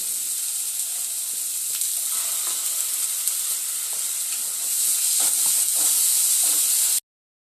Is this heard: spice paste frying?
yes